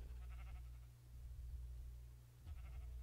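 Sheep bleat in a survival video game, two wavering calls at the start and end over a steady low electronic hum, with no talking.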